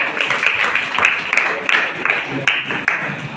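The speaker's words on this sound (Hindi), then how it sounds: "एक बार तालियां हो जाए" A children's poetry recitation contest audience at Bihar Bal Bhawan Kilkari claps in a dense, steady round of applause with scattered sharper claps standing out, fairly loud and continuous throughout.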